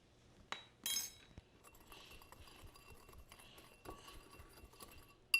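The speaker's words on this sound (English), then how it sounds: "Let's give it a whisk." Whisk clinking against a bowl of granulated garlic, onion powder and black pepper, a few sharp metallic taps and a scraping rattle, fairly close and light, with no talk.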